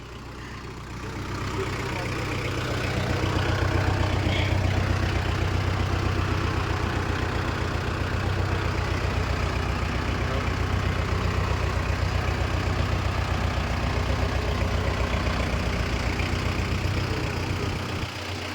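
A vehicle engine idles in a steady low rumble that runs the whole way through, loud and close, with speech faintly mixed in.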